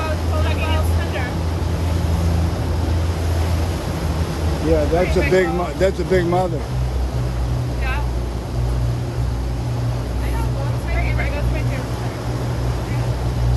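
Motorboat engine drones steadily at close range as the boat runs from the open ocean into an inlet, with someone talking loudly over the continuous low rumble and wind.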